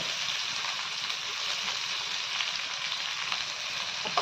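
Onion, garlic and cumin frying in hot oil in a pan, giving a faint, steady, continuous sizzle with no speech.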